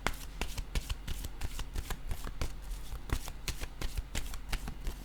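Tarot cards being shuffled by hand, a rapid, steady series of close, crisp riffling flutters and taps repeating throughout without talk.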